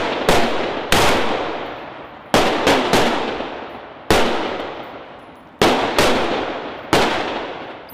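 Rifle gunfire from Navy SWCC special boat crew training on an outdoor shooting range: loud, sharp single shots and short pairs at irregular intervals, each trailing off in a long echoing decay, with no talking.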